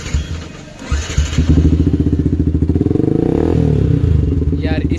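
Yamaha R15 V2 motorcycle fitted with a Leo Vince Corsa copy aftermarket exhaust, idling with a steady loud throb that picks up into a rapid pulsing burble, close by with some clatter.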